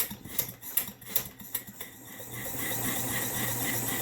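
A PM Research 6Ci model steam engine with a governor runs under load, giving a quick series of light rhythmic clicks and taps that give way to a steady, faint hiss; no one talks.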